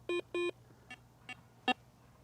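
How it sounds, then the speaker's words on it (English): Rippton Bitekeeper Cube bite alarm receiver sounding its notification tone: two longer electronic beeps followed by three shorter, fainter bleeps in a quick irregular sequence, clean and close. "I've pressed mute and I've got notification again from all the alarms"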